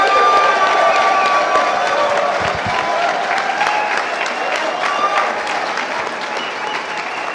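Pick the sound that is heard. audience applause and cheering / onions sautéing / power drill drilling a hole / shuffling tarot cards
audience applause and cheering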